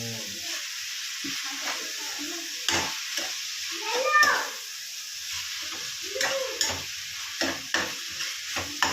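A handful of mint leaves frying in a pan for chicken fry, a soft crackling sizzle broken by scraping stirs and a few louder clanks toward the end.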